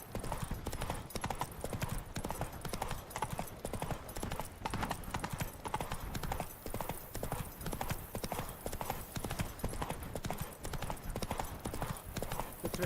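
Hooves of the horse Roach gallop steadily in The Witcher 3, a fast, continuous clip-clop rhythm that stays loud and close throughout, with no voices over it.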